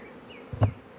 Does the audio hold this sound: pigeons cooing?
no